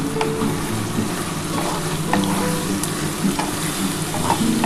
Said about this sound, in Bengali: আর অল্প একটু চিনি দিয়ে দিলাম দিয়ে ভালো করে মশলাটা কষাতে হবে